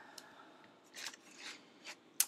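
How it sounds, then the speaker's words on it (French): Scissors cut out craft pieces in a quiet room, giving about four crisp, separate snips spread over a couple of seconds. "Alors mes ciseaux, hop,"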